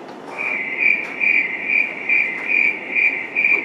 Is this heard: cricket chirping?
yes